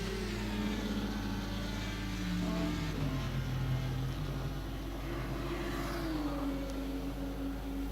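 Racing car engines drone continuously on a circuit during a sim race broadcast, a steady layered whine with pitch rising and falling as cars rev and shift, moderately quiet with no voices.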